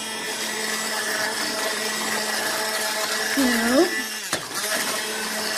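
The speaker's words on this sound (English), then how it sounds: "If you have like a frother, this is what I have, is a smart stick." A handheld smart stick frother whirs steadily at high speed while mixing a drink, a continuous buzzing motor that briefly dips in pitch, with a voice speaking over it.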